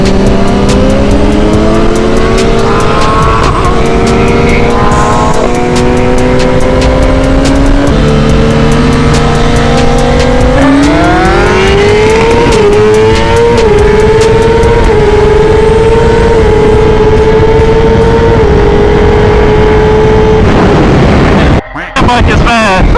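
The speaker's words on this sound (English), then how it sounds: "That bike is fast." A fast bike's engine revs and pulls hard through rising gear changes, loud and close, with a voice shouting excitedly over it before a sharp burst near the end.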